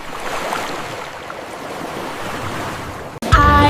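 Steady, loud wash of ocean waves and wind around a sailing boat in an animated children's scene, ending in a sudden bright musical chime.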